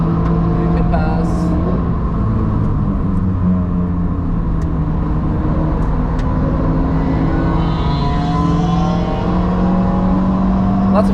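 A Toyota Yaris T Sport engine drones loud and steady near redline while lapping the Nürburgring, its pitch climbing slowly under constant in-cabin rumble, with faint talking in the car.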